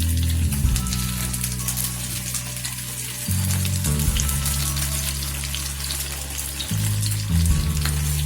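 Sabudana bombs shallow-frying in oil in a pan over a low flame, a steady bright sizzle running throughout, over a background hum that shifts pitch in steps.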